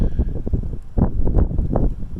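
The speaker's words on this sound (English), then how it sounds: "sorry about the wind. The wind just picked up" Strong gusts buffet a microphone outdoors at a coastal state park, producing loud, uneven low rumbling bursts that rise and fall over a couple of seconds.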